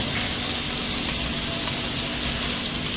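Spices and green chili paste sizzle steadily in hot oil for aloo gosht curry, a continuous close frying hiss with no talking.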